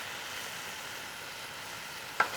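Food sizzles steadily in a pan on a camp stove at a solo campsite in a desert canyon, with a soft, even hiss that goes on throughout and a single small pop near the end.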